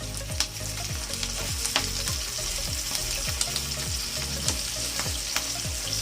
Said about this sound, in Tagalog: Tapos, magpiprito na tayo.